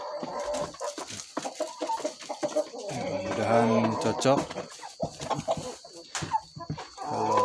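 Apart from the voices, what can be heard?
chickens clucking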